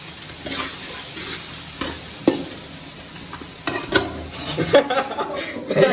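Onions fry in a pan while egg semiya is being cooked, producing a continuous close sizzle with intermittent spatula stirring, scraping and a few sharper metallic clinks that grow busier toward the end.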